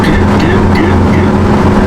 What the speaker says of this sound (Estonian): Siin kiireka peal enamus on lihtsalt rekkad kämperid ja sõiduautosid on nagu kõige vähem siin.